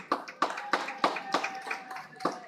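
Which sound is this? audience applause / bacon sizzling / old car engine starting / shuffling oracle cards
audience applause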